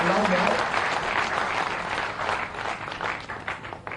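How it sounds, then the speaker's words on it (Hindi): Crowd at a BJP political rally in Gwalior, Madhya Pradesh applauds to welcome a party leader, a dense, sustained wash of clapping throughout with a voice over a loudspeaker calling out above it. "ग्वालियर के जरा जोरदार ताली बजा के स्वागत करो"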